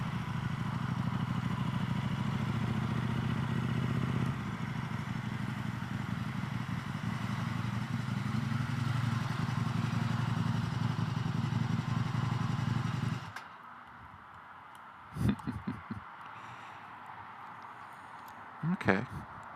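A KTM Super Duke motorcycle rides at a steady engine drone for about thirteen seconds, then cuts to near quiet with a few brief clatters and knocks.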